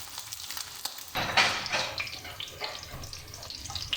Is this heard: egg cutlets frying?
yes